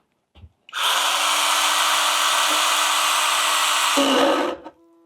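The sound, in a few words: STIHL GTA 26 cordless mini chainsaw struggling to cut, stopping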